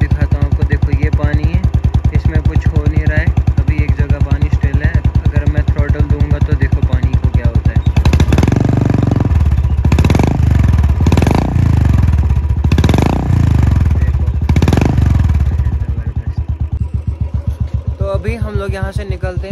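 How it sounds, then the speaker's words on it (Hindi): A motorcycle being cold started after continuous rain, the engine catching and running steadily, with several loud revving bursts in the middle before it settles back to a lower idle. "अभी हम बाइक को कोल्ड स्टार्ट करते हैं।"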